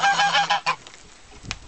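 Geese honk loudly in a quick burst, then a few fainter calls follow in the distance.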